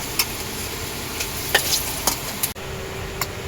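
Potatoes frying in hot oil in a home kitchen, a steady soft sizzle punctuated by several sharp scraping clicks of a spatula stirring against the pan, close and alone without voices.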